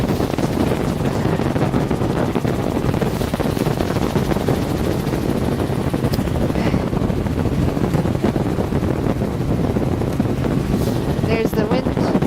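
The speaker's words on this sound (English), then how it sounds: "There's the wind." Strong wind buffets the microphone near a coastal beach and sand flat, a steady loud roar with broadband rumble throughout, wind generators nearby.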